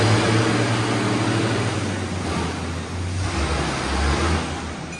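A tractor engine roars steadily during a tractor pull between machines like a John Deere 4955, a loud continuous drone heard from nearby with outdoor wind noise.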